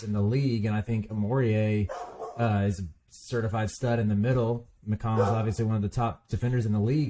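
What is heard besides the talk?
dogs barking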